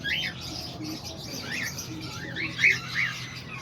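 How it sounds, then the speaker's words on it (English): Cockatiels chirp in an aviary at a pigeon lot, sounding repeated close, shrill rising calls spread across the stretch, with one louder call standing out near the end. "Just out here looking at my birds, the cockatiels."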